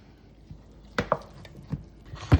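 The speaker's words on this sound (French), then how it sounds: "Donc, je vais tout mélanger" A sour cream mixture being stirred in a bowl, heard as a few scattered knocks and scrapes of a utensil against the bowl, close and fairly quiet, with the loudest strike at the end.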